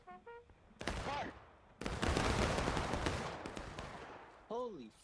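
A musket volley fired on command in a large 250-player online battle game crashes out as a loud, ragged wall of nearly simultaneous shots, followed by a long rolling rumble, with voices shouting briefly before and after.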